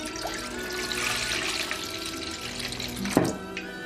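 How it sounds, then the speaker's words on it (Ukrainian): About a litre of baked milk poured from a vessel, a steady close liquid stream with a brief gurgling splash near the end, no talking. "виливаємо десь із літерку молочка топленого"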